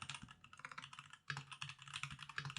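Steady, fast typing on a computer keyboard, close and fairly quiet, with a continuous run of clicky keystrokes and a brief pause midway.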